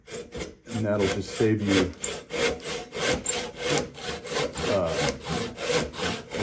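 A hand saw cuts along a kerf in a wooden board, with rhythmic rasping push-and-pull strokes, close and steady at roughly two strokes per second after a brief pause, and someone speaking briefly near the start.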